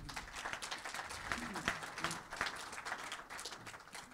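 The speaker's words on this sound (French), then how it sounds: "Merci beaucoup Hervé, on peut l'applaudir." An audience claps after a talk on running races, a loose patter of applause with individual sharp claps standing out, while voices murmur and talk beneath it.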